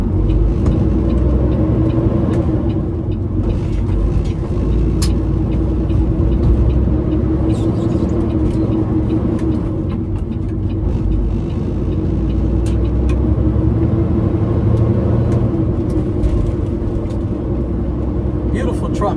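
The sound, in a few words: 18-speed semi truck engine driving through gears, bobtail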